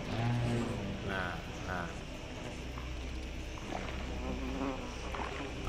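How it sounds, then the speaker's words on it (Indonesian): Wasps buzz continuously in the Planet Alpha video game, a steady insect drone running throughout beneath an overlapping voice and low rumbling game sounds. "Banyak tawon"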